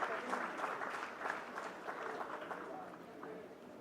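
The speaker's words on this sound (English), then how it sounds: "The claps mean a lot." Audience applause at a ceremony marking 75 years of ICCR, a steady, fairly distant wash of many hands clapping that slowly fades toward the end.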